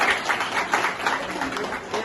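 Audience applause at a gathering, light scattered clapping in irregular bursts, moderately loud and fairly close.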